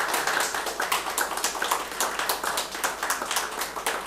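A council session audience at a county council meeting gives a steady round of clapping, many hands striking in a brisk, fairly even rhythm. It fills the room at moderate loudness with no talking over it.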